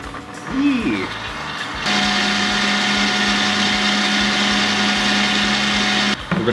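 Electric hand mixer whirring steadily as it softens butter in a bowl for a Rice Krispie cake, a loud continuous drone that starts after a moment of room noise and stops near the end.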